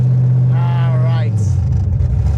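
Chevy S10 truck engine idling close by with a steady low rumble as the truck drives in, while a person speaks briefly over it.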